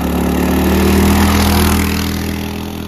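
Minibike engine pulling hard under full throttle on a stretch of road, a loud, close, buzzing drone that swells briefly and then eases slightly, with no voices.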